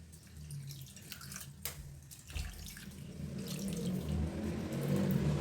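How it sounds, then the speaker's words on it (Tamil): Water runs from a tap and splashes steadily in a sink while paneer for ras malai is lightly rinsed, growing a little louder toward the end, with a few knocks of something being rinsed. "கொஞ்சம் நம்ம தண்ணி விட்டு நல்லா லைட்டாக அலசிக்கலாம்."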